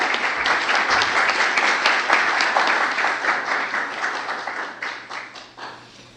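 An audience at a national book and culture ceremony gives sustained applause for the writer and professor Gary Victor, dense even clapping that holds steady, then gradually thins and fades toward the end.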